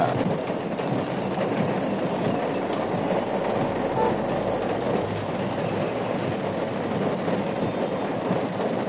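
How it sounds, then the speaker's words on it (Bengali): Raindrops drumming on the roof of a car driving through the streets of Dhaka on a rainy day. A dense, steady patter blends with the rumble of the road and continues evenly throughout. "আমার গাড়ির ছাদের উপরে বৃষ্টির ফোঁটাগুলো পড়তেছে, অনেক শব্দ হচ্ছে, অন্যরকম একটা।"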